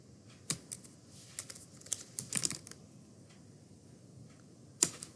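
Typing text on a computer keyboard: quick, light key clicks come in short irregular bursts, close and clear over faint background hiss, with one sharper keystroke near the end.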